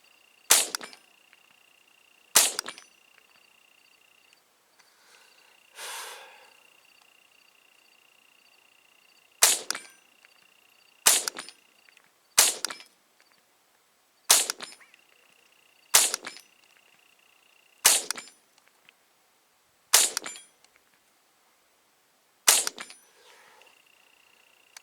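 A Savage 64 Takedown semi-automatic rifle fires about ten sharp, loud cracks outdoors in a desert, spaced a second or two apart, each followed by a short ringing decay, with a faint rustle between shots.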